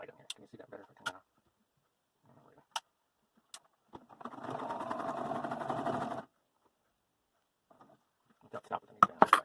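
A sewing machine stitches in a zipper for about two seconds as one steady, fairly close whirring run. Sparse clicks and handling noises come before and after, with quiet talk between.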